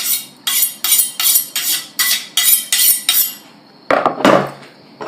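A knife saws rhythmically through a ribeye steak on a board, cutting it off the bone in a grill kitchen: about ten quick even strokes, then a pause and a heavier scraping cut near the bone.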